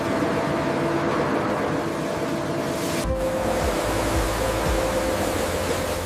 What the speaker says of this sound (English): High-pressure water jets wash away soil and surface impurities.